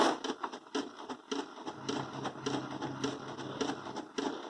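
An inkjet printer loaded with refilled HP 805 cartridges prints a black page, making irregular whirring and clicking carriage movements close by, with nobody speaking.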